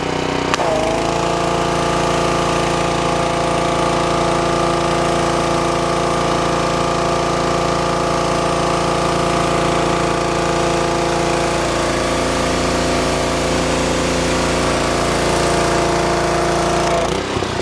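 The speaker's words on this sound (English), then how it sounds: "Make sure the engine will run right when" A small engine runs close by, a loud steady droning hum that holds without pause for the whole stretch, with no voices.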